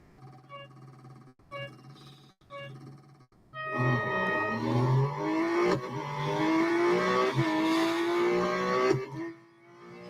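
A Porsche 911 GT2 RS Clubsport races in Real Racing 3 around the Circuit de Catalunya Grand Prix track, brief engine blips and shifts giving way to a sustained high revving roar that climbs through gears, loud and close.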